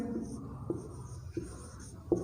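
A pen or pencil writes an example sentence by hand during a lesson, giving a few faint, brief scratching strokes over quiet background noise.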